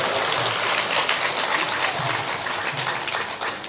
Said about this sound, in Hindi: ताली ऊपर ऊपर बजा कर दिखाओ